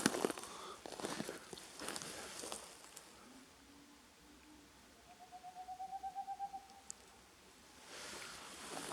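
Night in an old forest of spruce undergrowth and tall pines, where a bird calls overhead: a low hooting rises after a few seconds, then a longer pulsed trill swells and fades, with footsteps and rustling at the start and end.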